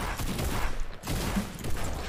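A quick burst of heavy sniper gunfire in the video game Fortnite, a few sharp shots close together over game background noise.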